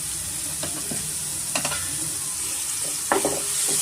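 Onions fry in oil with turmeric and salt, giving a steady sizzle with a few scattered stirring scrapes and clinks, close and alone without talk.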